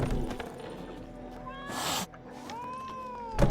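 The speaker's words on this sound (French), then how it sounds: "Le chat s'énerve." An angry cat in the video game The Witcher 3 lets out drawn-out, wavering meows, a couple of rising yowls set against a faint ambient backdrop with a brief noisy burst between them.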